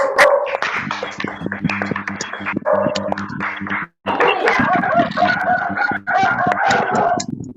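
A dog barks repeatedly amid loud rooster crowing and clucking, all close and noisy with a short pause midway.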